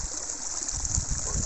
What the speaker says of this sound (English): waterfall and pond.